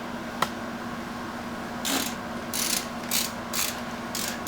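A ratchet works to loosen a motorcycle fork cap bolt during a fork seal replacement, a faint click followed by a series of short, even ratcheting bursts, close and fairly quiet, with no talk.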